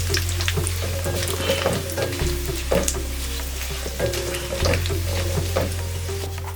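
Dried red chillies frying in oil alongside curry leaves, with a busy, crackling sizzle and scattered sharp pops and utensil clinks over a steady low hum, close and fairly loud, no talking.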